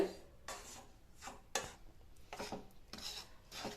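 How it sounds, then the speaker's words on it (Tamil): A spoon scraping and stirring rice flour as it dry-roasts in a pan for Tamil sweet adai, a soft repeated rasping rhythm of about seven strokes, close and quiet. "அடுப்ப மீடியம் ஃப்ளேம்ல வச்சு கைவிடாம வறுத்துக்கணும்"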